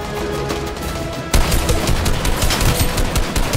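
Rapid, continuous minigun fire in Fortnite Chapter 2 Season 7 forms a loud, dense burst that grows heavier partway through and keeps going without a pause. No voices are heard.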